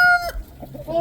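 Farm chickens cluck and a rooster gives a brief crowing call, close and fairly clear, in a short burst.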